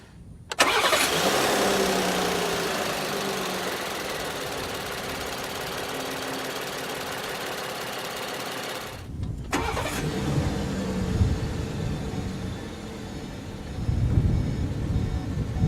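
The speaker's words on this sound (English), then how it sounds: "put your foot on the brake and hit the console-mounted button to go" A 2018 Volkswagen Atlas SUV starts by push button: a quick starter crank, then a steady engine idle close by, followed by a second start and a rising rev near the end.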